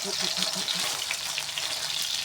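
Sun-dried, head-off catfish frying in a little oil in a nonstick grill pan, a continuous crackling sizzle close by, with a few soft low knocks early on.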